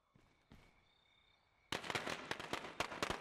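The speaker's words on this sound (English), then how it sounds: "let's see if we can generate some more zombies by throwing a firecracker" A firecracker thrown in the video game State of Decay crackles in a rapid burst of sharp pops that runs for over a second and a half, following a few quieter clicks and a faint tone.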